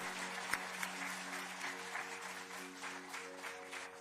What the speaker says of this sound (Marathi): त्या शाहीर प्रवीण फणसे आणि सहकाऱ्यांकरता जोरदार टाळ्या झाला पाहिजे